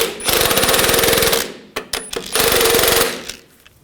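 Bolts on the shock and spring assembly of a 2014-2018 GMC Sierra pickup are snugged down with a rapid-fire power tool, two long rattling bursts separated by brief clicks, close and loud.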